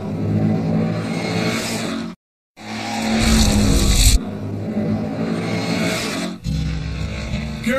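A Shelby GT350 race car at speed in SCCA B production racing: a loud, continuous engine roar with a brief cut of silence early on, then a hint of tire squeal.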